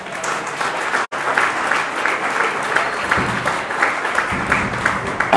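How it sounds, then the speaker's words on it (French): A church congregation at a sermon applauds and cheers for Jesus, loud and sustained hand clapping throughout, with a sharp brief dropout near the start and voices mixed into the noise. "Est-ce qu'on peut acclamer Jésus un moment?"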